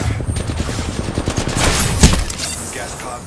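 Gunfire aimed at the player in the video game Apex Legends, a rapid automatic burst that rattles steadily and then ends in one sharp louder shot, fairly close and loud.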